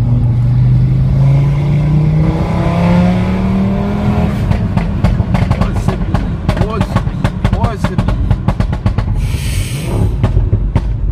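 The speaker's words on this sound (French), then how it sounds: "Les pétarades, ils font tout seuls? Ouais, à partir de 4000 tours." An Audi RS3 revs hard, the engine note climbing steadily before dissolving into a rapid, loud string of exhaust pops and crackles, close-up, with voices briefly audible alongside.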